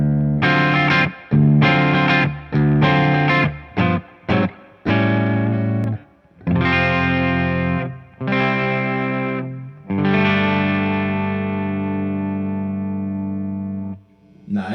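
An electric guitar plays through a Victory Amplification The Jack 180W hybrid amp with bass nearly off, treble raised and mids at halfway, giving loud distorted chords in choppy bursts that end on a long ringing chord.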